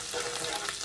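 Garlic fries in a pan for a shrimp dish, a brief, moderately loud crackling sizzle with no voices.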